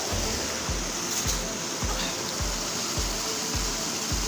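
Water from a mountain spring in Swat flows steadily in a constant broadband rush, with a series of low, regular thumps repeating about every half second beneath it; no voices are heard.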